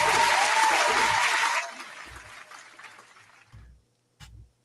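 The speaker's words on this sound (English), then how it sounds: "Shouts out to all my FL Studio producers. Round of applause." A round of applause from a small crowd, loud and dense for about a second and a half, then cutting off sharply into quiet room noise with a couple of low thumps.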